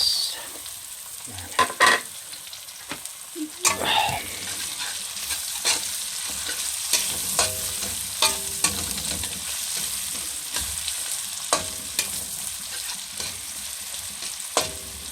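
Chopped onions sizzle and fry in a hot pan for an octopus dish, a steady broadband hiss punctuated by repeated sharp clacks and scrapes of a stirring utensil against the pan.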